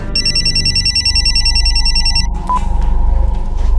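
A telephone rings loudly and close in a crime drama scene, its rapid trilling bell repeating steadily for about two seconds before stopping, with a low background hum beneath.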